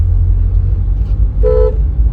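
A car horn gives one short, clear toot over the steady low rumble of a car's engine and road noise from inside the vehicle.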